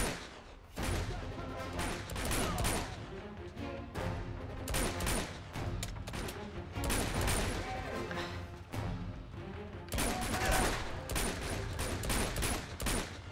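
A sidekick character fires gunshots in the Uncharted 2 video game: dense, repeated sharp shots crackle steadily throughout, loud and close, forming an almost continuous volley of gunfire.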